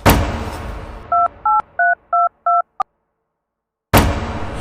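A friend's mobile phone is dialed, giving six short evenly spaced keypad tones after a brief noisy start, then silence before another noise burst at the end.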